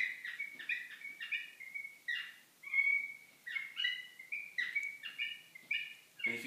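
A bird roar instrument played slowly, giving a string of chirpy, bird-like calls in short bursts and longer held tones, moderately loud and close, with no talking.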